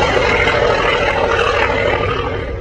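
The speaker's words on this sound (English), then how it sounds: "It seems that the United States owned one remaining propeller attack fighter plane," Douglas A-1 Skyraider, a single-engine propeller attack aircraft, droning loud and steady at close range with a broad, dense engine roar, no voices.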